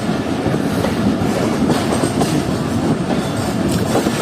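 The Pak Business Express passenger train rolls along the rails on its Bahawalpur to Karachi run, giving a loud, steady rumble of wheels with rhythmic clickety-clack from inside the carriage and no one talking.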